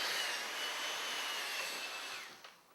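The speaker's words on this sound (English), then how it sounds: "use a dryer," A hair dryer blowing on a quick weave closure, giving a close, steady rushing whoosh that holds evenly and then drops off at the end, with no talk.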